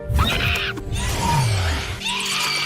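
A voice imitates a vampire's banshee-like screech, a loud, strained, distorted inhaled scream with a rising whine and breaks, close to the microphone and heard alone.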